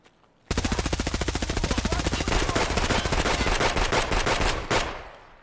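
Rapid sustained automatic gunfire in a multiplayer shooter game, a dense string of loud close shots lasting several seconds before cutting off, with no voices.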